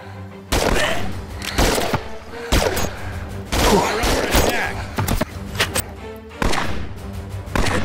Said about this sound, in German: mit links zu schießen ist echt nicht ohne